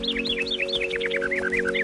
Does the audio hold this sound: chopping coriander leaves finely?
no